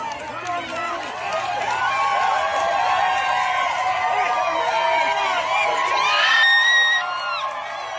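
A crowd at the Cocodona 250 race screams and cheers loudly and without a break, a mix of high shouts and whoops that peaks near the end.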